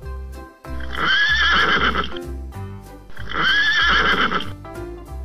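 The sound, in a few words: horse neighing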